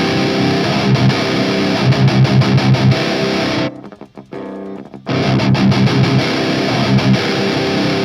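A heavily distorted electric guitar chugs a metal riff loudly, cutting out briefly midway before the crunchy playing resumes.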